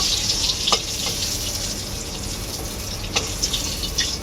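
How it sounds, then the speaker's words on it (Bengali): Pointed gourd (potol) sizzling in hot oil in a pan, a steady close frying hiss with a few brief clinks and stirring clatters, no voices. "বাকি পটলগুলো আমার ভাজা হয়ে গেছে আমি এখন তুলে নেব"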